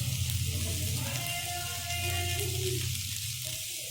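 Food frying in a pan in a Bengali home kitchen, with a steady close sizzle and faint stirring under a low hum, with no voices.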